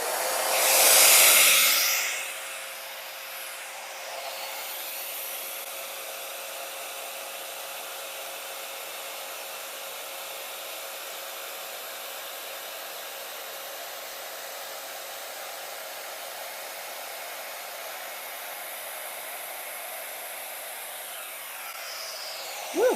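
Blow dryer blowing across wet acrylic paint in a sunflower fluid-art pour; a steady, close whooshing hiss holding for about twenty seconds after a brief louder burst at the start, with no talking.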